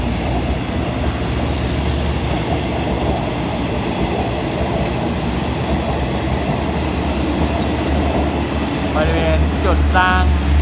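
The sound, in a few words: passing train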